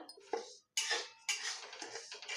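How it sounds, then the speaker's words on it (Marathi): Coarse wheat flour being stirred in a hot kadhai while making jaggery lapshi, heard as a few close, uneven metallic scrapes and clinks of the spoon against the pan. "भरडा थोडासा गरम होईपर्यंत असा हलवायचा"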